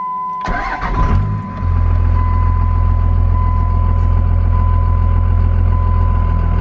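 A 1994-2002 Dodge Ram pickup cranks briefly and catches, then settles into a loud, steady, close-up idle with a deep even rumble and a faint electrical whine over it.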